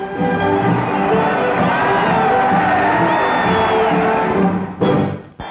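Crowd of spectators cheering and shouting loudly at an outdoor park ceremony in New York in 1945, a steady roar that dips at the end.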